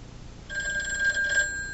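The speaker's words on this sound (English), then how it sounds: "Hear how the ringer is." A vintage rotary phone's mechanical bell rings through a Bluetooth gateway, one short loud metallic trill with bright ringing overtones that rises abruptly over a faint hiss and fades slightly at the end.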